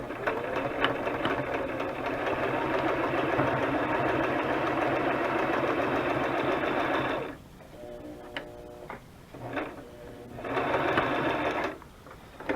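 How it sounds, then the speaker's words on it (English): A sewing machine runs a steady straight stitch through a handmade butterfly journal for about seven seconds, then stops and restarts in short bursts, close and loud with no talking. "So we're just going to do a straight stitch too."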